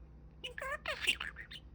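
A pet budgie parakeet named Boba gives a short run of bright, close chirps and warbling tweets, several quick bursts in a row at moderate volume.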